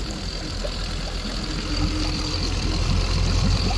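The outboard engine of a Ribcraft 585 rigid inflatable boat idles in shallow water, a steady low rumble that keeps an even pace with wind noise beneath it and grows slightly louder partway through.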